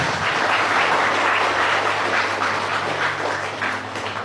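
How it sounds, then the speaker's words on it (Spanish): A church congregation claps through a sermon, a loud sustained burst of applause that holds steady and eases slightly toward the end, with a low steady hum beneath. "Y un fuerte aplauso al Espíritu Santo de Dios."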